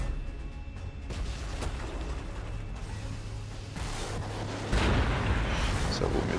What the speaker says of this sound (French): Oh, le tir de canon anti-aérien.